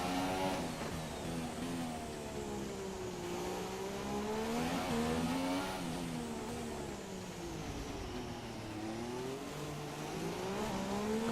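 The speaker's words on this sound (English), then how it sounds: "Car sounds a bit nasty" Rough, strained McLaren Honda Formula 1 engine in the F1 2017 racing game at the Monaco Grand Prix, a continuous loud whine rising and falling with revs, with no voices.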